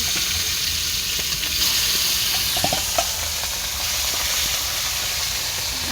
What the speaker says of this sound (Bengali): আর যে মাছগুলো বাকি ছিল আমি আবার সেগুলো দিয়ে দিচ্ছি। এগুলোও লাল লাল করে ভেজে নেব।